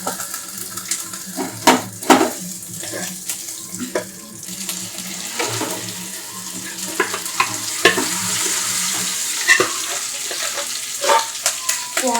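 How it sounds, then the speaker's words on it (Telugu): Lentils sizzle and splash into hot oil tempering, with scattered sharp crackles and stirring scrapes over a steady frying hiss. "తాలింపు అయితే రెడీ ఇప్పుడు పప్పు వేసేస్తాను"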